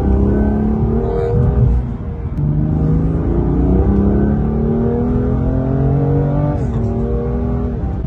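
A BMW M2 Competition driving hard in Sport Plus mode gives a loud, close, continuous engine drone whose pitch climbs through the gears, with quick dips at the shifts.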